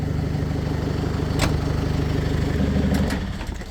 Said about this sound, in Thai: ลองสตาร์ทให้ดูฟังเสียง เครื่องยนต์